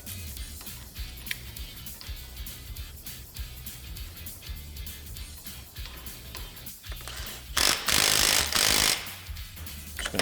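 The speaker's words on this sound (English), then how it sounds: "Now we're going to install our castle nut." A ratchet tightens a castle nut on a SuperATV Rhino 2.0 front axle fitted to a Polaris RZR Pro R, giving a steady run of close, crisp clicks. Near the end comes a louder, harsher burst of rapid ratcheting.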